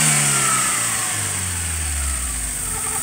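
Car engine revved to about 4000 rpm and released, the loud high revving tone falling steadily back toward idle.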